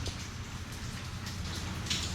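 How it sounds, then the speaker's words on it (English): Steady rain falls outdoors during a wet motorcycle outing, a continuous even hiss of drops spread across the whole stretch with no voices. "Obviously, you can see the rain's back."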